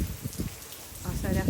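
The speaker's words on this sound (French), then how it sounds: "On est sous la pluie, mais ça vaut le détour." Rain falls steadily in the Everglades, a close, dense patter on nearby surfaces with a few heavier splashes.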